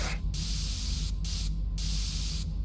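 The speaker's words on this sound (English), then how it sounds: "Okay, that can of spray is out." Spray can in the video game Into the Radius 2 hissing in several close, loud bursts separated by brief pauses.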